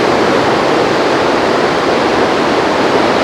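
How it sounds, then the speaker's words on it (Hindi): A fast-flowing mountain river in Himachal rushes with a dense, steady roar of water, loud and close, unbroken throughout with no voices. "ये नदी काफ़ी तेज पानी है ना, बहता हुआ"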